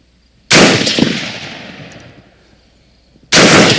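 A gun is bump fired, its recoil bouncing against the trigger finger. A loud, sharp burst of rapid shots rings out and echoes as it fades, then another burst starts at the very end.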